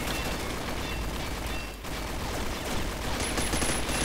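Sustained rapid gunfire from an MK.48 machine gun in a first-person shooter, a dense, continuous rattle holding steady for about four seconds with only a brief dip midway.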